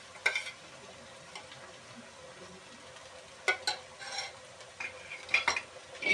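Onions and ginger garlic paste fry in a pan while a spoon stirs them, giving a soft low sizzle broken by scattered scrapes and clinks against the metal.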